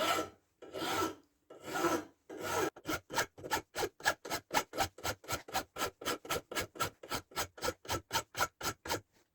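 A few slow, long rasping file strokes on a small steel axe head give way to a fast, even series of short metal-filing strokes, close and steady.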